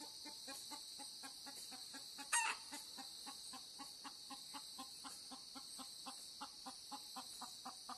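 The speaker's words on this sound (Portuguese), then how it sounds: "Galinha." Chickens cluck in a steady, rhythmic pattern while a rooster crows briefly in the distance on a farm at dawn, with birds chirping faintly in the background.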